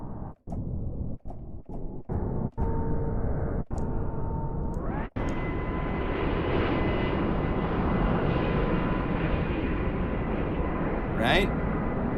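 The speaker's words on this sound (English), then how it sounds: "We have airplane landing." An airplane landing effect from the Omnisphere synth library: a steady, loud broadband engine roar with a rising whine, broken by several sharp cuts in its first few seconds, then sustained, with a brief hiss near the end.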